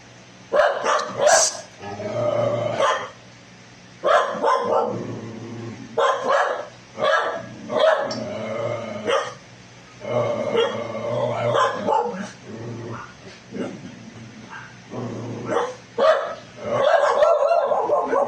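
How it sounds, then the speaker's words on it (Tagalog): A dog barks repeatedly in bursts, loud and close, with short pauses between volleys and a few yips mixed in. "ang kahol mong walang kapararakan"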